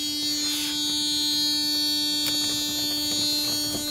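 A continuous electronic buzzer drones at a steady pitch inside a Mercedes-Benz W140 S-Class V8, loud and unbroken, with faint clicks and movement around it.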